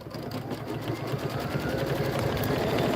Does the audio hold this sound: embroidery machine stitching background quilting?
yes